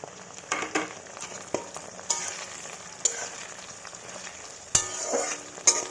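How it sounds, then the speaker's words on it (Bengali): Aloe vera and fenugreek fry in oil for a homemade hair treatment, giving a continuous sizzle. Sharp clinks from stirring land every second or so, and nobody speaks. "এবার অ্যালোভেরা কালো দিয়ে মেথি সব ভেজে নেব"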